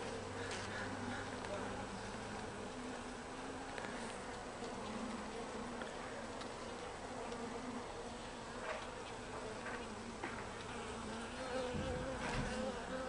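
Carniolan honeybees hum in an opened hive during an inspection, a constant dense buzz with individual bees droning close to the microphone now and then.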